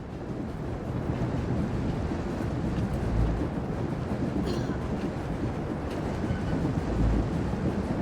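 A train rushes along in the video game Star Wars: The Old Republic, giving a loud, steady rumbling roar with a brief windy hiss partway through. No one speaks.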